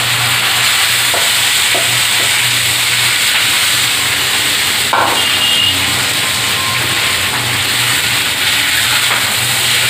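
Cooked white rice is stirred with fried coriander powder in a hot pan. It gives a steady, loud sizzling hiss throughout, with a few light scraping knocks of the spoon against the pan.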